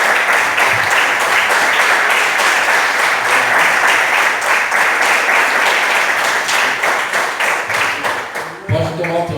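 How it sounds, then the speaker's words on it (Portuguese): Church congregation applauding after a preacher's call, sustained dense clapping from a large crowd filling the room for about nine seconds, tapering near the end as a voice cuts in. "Aplauda o nome do Senhor"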